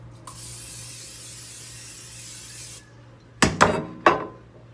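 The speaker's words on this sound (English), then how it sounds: "I spray down my casserole dish" A steady aerosol cooking oil spray hisses onto a casserole dish for about two and a half seconds, then a few quick clatters as the can and dish are handled, with no talking.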